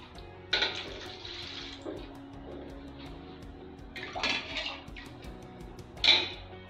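Water splashes into a cooking pot in a few separate glassfuls for Hyderabadi khichdi, with quieter running water in between, close by.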